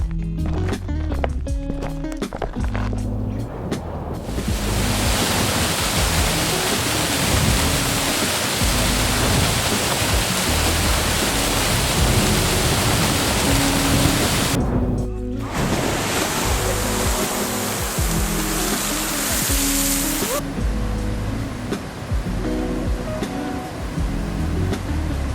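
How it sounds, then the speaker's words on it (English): Iceland waterfall, a loud, steady broadband rush of falling water heard close up, continuous throughout with a brief dip partway, no talking. "As I was driving, I saw that there was a waterfall."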